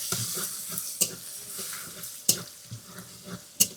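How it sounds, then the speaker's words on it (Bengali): Chopped onions frying in a pan while a spatula stirs them, a faint, soft sizzle under scattered scraping and a few sharp metallic clinks, fairly quiet and without voices. "এই যে এখন পেঁয়াজটাকে বেশ ভালো করে ভেজে তারপরে মশলা দেব।"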